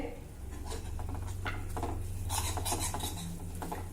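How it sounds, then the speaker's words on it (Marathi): Dry grated coconut stirred and roasted in ghee in a pan, with scraping spoon strokes and clinks of utensil against metal over a soft background sizzle, close and moderately quiet. "आता हा सुक्या खोबऱ्याचा किस देखील आपल्याला खमंग भाजायचा आहे"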